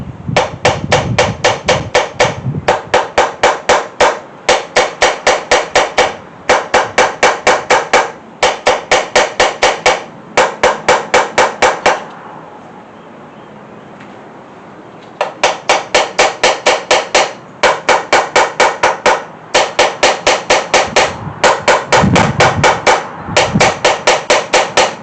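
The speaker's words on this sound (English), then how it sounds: "So I'm going to give it a little lug tap on the bolts." Small Block Chevy 350 connecting rod bolts tapped with a hammer in quick, evenly spaced bursts of sharp metallic strikes, loud and close, with one pause of several seconds midway.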